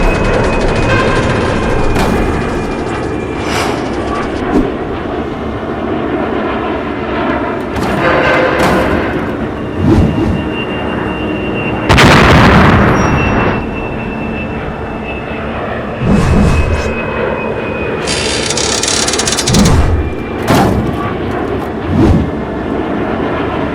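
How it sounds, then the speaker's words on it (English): Animated sound effect of a huge explosion in a Boeing 777-200 engine during a fan blade-out failure: heavy rumbling jet roar broken by repeated loud booms and thuds that shake through the sustained noise, with no speech. "a sudden, huge explosion shook the entire airplane."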